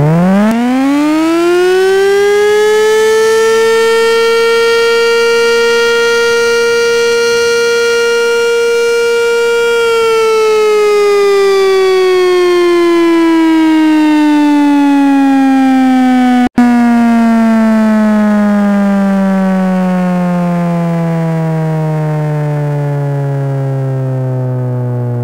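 A Brazilian civil defense siren wails loudly, rising in pitch, holding steady, then slowly winding down over a long sustained tone, with a brief click midway.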